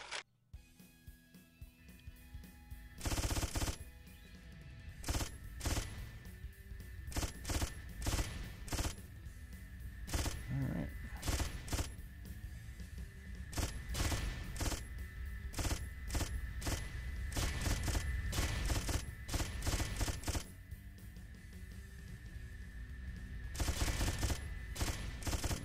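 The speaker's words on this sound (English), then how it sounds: "your gun will shoot slower and slower the more bullets you use" In the computer game Judgment Day, rockets are shot with a gun that fires in rapid, repeated bursts, giving dense crackling volleys that continue almost without a break.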